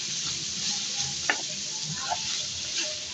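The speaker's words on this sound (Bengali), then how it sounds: "এখন আমি এটা ভালোভাবে নাড়াবো, নেড়ে দিব।" Ridge gourd with green chillies frying and being stirred in a pan, a steady broad sizzle with a few faint utensil scrapes and clinks, close and continuous.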